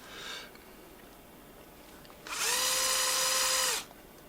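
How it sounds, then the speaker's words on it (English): A large power drill with a small bit whirs loudly in a guitar workshop for just over a second with a steady high-pitched motor tone, then stops; a brief faint noise comes before it. "it's a very dainty little bit for such a big drill."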